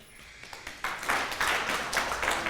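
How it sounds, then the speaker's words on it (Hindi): An audience at a school for the deaf in Jodhpur claps for itself: scattered claps at first, then building into dense, continuous applause. "अपने लिए जोर से ताली बजाओ"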